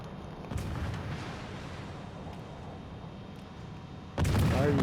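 Naval gunfire from a free-to-play warship game with Isokaze and Friant torpedo boats: a muffled boom near the start, steady rumbling battle noise, then a louder, closer blast near the end.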